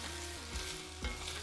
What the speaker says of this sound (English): You start to hear those nice sizzling sounds straight away